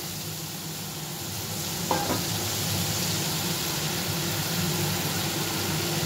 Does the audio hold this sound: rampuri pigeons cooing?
no